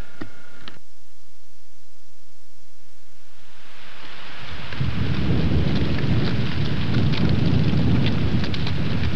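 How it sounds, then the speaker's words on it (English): After a quiet start, a strong roaring gust builds and keeps blasting, loud and rough, like wind buffeting against the recorder, at the Ravinia renovation site in 1994. "It's real windy today"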